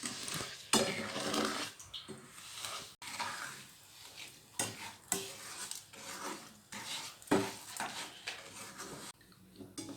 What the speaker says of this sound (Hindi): अब हम इसको तब तक भूनेंगे जब तक ये रेड नहीं हो जाती